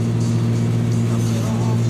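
John Deere tractor engine idling steadily at close range, a constant low rumble with a strong hum throughout and no clear revving.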